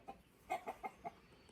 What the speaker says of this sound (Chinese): 那里有一只抱窝母鸡